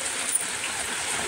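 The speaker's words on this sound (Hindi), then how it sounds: "यहाँ पर देखिए पानी आ रहा है पूरी तरह से एकदम।" Rainwater flows in a constant rushing, trickling stream, close and fairly loud, with no voices over it.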